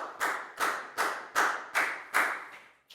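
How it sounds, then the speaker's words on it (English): A Year 4 class claps in unison, about six evenly spaced, crisp claps in a steady rhythm, then stops, with no talking. "Big round of applause for Down, please, guys."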